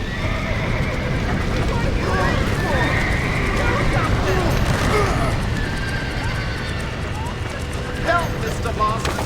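Horses whinny and neigh repeatedly in a burning barn in Red Dead Redemption, their cries rising over roaring fire, hoofbeats and shouting voices.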